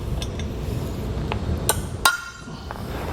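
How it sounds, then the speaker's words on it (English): A hammer taps metal fifth wheel underbed brackets on a 2022 Ford F-250 Super Duty pickup, giving a handful of sharp, bright metallic strikes spaced irregularly over a low steady background hum. "just taking a hammer here and just kind of hitting these to where they're flush all around"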